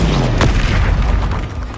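A Bombarda explosion spell going off in Hogwarts Legacy, a loud, deep booming blast with a sharp crack at its onset that rumbles on through the moment.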